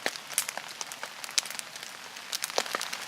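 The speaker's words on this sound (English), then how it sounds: "that's exactly what we've got today, is just a cold rain" Cold winter rain patters steadily on a nearby surface, with soft, uneven drops ticking faintly and no voices.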